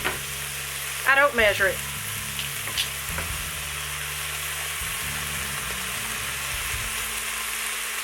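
Garlic frying in a pan for a spicy Thai chicken soup, giving a constant close sizzle and crackle with some stirring, while a person talks briefly over it.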